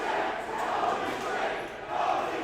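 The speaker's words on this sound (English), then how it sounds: "The crowd certainly seems into it." A wrestling show crowd cheers and roars steadily around the ring, a dense wall of voices that holds loud throughout, with a brief dip before surging back.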